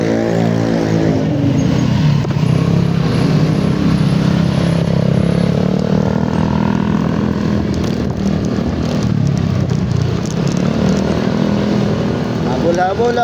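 A motorcycle tricycle engine passes nearby on a Manila street, a loud, steady, buzzing drone over busy traffic noise, with someone talking over it.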